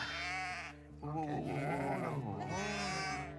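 A newborn lamb bleats loudly and close by in long wavering cries, one after another, with barely a pause between them.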